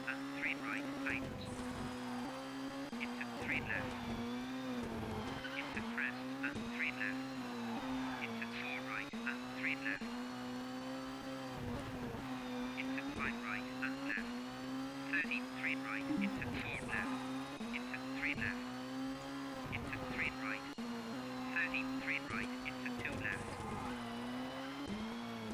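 Rally car in Colin McRae Rally 2, driven on an Italian stage, its engine droning steadily with turbo whine and repeated tyre skids through corners, continuous and loud throughout while someone talks over it.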